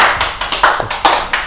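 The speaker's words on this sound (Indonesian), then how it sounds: "Ya, tepuk tangan dulu." A small studio audience at a health talk show claps in short, uneven bursts, several distinct sharp hand-claps spaced irregularly, close and fairly loud, with no talking.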